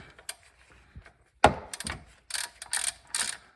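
A ratchet working on a 22 mm bolt on a 2004 Infiniti G35 gives a sharp metallic crack as the bolt breaks loose, then several quick clicking ratchet bursts, close by with no speech.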